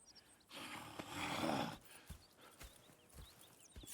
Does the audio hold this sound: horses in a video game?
yes